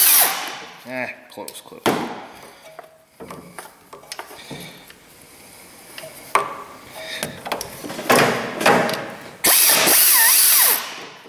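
A power tool drives a short socket on a 1.7 Honda Civic, with bursts of mechanical whirring and clanking that build to a loud, sustained run near the end, while someone talks over it.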